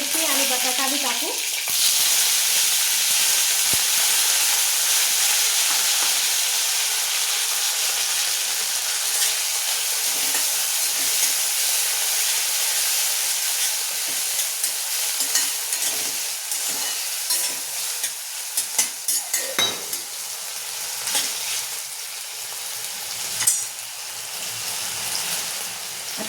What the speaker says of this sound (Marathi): तेल तापलं आपलं, जिरे टाकून, थोडासा कढीपत्ता, थोडी हिरवी मिरची आणि बटाटा भी टाकू